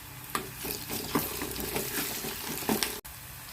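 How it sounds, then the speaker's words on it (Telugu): Curry leaves and ginger garlic paste fry in a pan with a soft continuous sizzle, broken by several light scraping stirs and a sharp click near the end. "రెండు రెమ్మల కరివేపాకు, అల్లం వెల్లుల్లి పేస్ట్ పచ్చివాసన పోయేంత వరకు వేసుకోవాలి."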